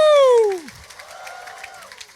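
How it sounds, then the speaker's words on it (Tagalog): A crowd at a mass baptism applauds, a brief patter of clapping that follows a loud sustained whoop from a voice, moderately distant. "Palakpakan nato siya mga kaigsunan."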